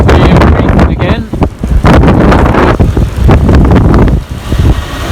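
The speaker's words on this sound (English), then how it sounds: "The wind is calming down slightly, so it's down at 21 knots now." Strong wind of about 21 knots roars steadily across the microphone aboard a sailboat crossing the North Sea near Helgoland at sunset, with gusty buffeting and rushing water noise throughout.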